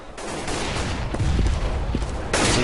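Gunfire from Counter-Strike: Global Offensive during a competitive overtime round, with a sustained volley of rapid shots close by over steady background noise and a final loud burst near the end.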